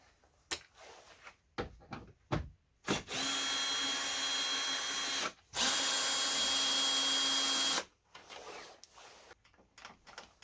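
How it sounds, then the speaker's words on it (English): A power drill runs in two sustained bursts, about 2.5 seconds each, separated by a short pause, as it backs out T30 Torx screws from the top of a VW B5 Passat bumper. Shorter tool clicks and handling noises come before and after. "So now I'm about to remove these two screws up top. These are T30."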